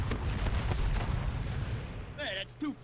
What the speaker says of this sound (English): Let's fire the cannons.